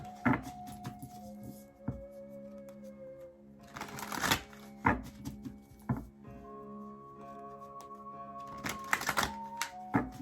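Tarot cards being shuffled and pulled, with crisp riffling bursts and sharp card snaps against faint background music.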